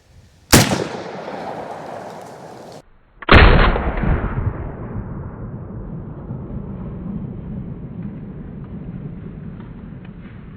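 A Panzer Arms AK Twelve shotgun loaded with Winchester slugs fires two sharp, loud blasts at a melon on an outdoor range, about three seconds apart, the second followed by a long rolling echo.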